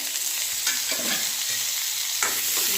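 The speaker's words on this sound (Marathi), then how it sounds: "आता हे थोडंसं तेल टाकून आपल्याला परतून घ्यायचं आहे" Thick slices of green tomato sautéing in a little oil in a kadhai over medium heat, a continuous close sizzle broken by several scraping stirs of a spatula, with no talking.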